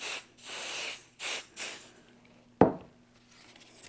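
505 spray adhesive sprayed from an aerosol can onto quilt fabric in three soft, close bursts of hiss, followed by a sharp tap and quiet handling.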